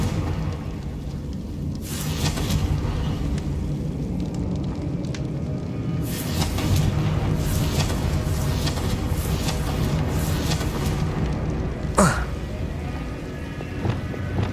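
In the Hogwarts Legacy video game, Confringo fire spells burst with whooshing, crackling blasts over a rumbling ambient bed, several eruptions spread across the stretch with a sharp, loud crack near the end.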